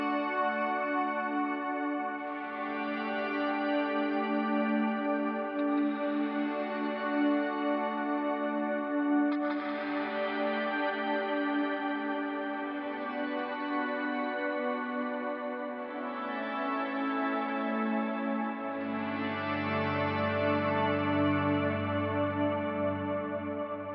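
Electric guitar run through an HX Stomp with auto swell, delay and shimmer reverb plays slow swelling chords that fade in softly, each blooming into a lush high-octave wash that sustains and overlaps with the next.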